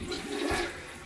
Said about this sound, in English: Let's go ahead and flush this.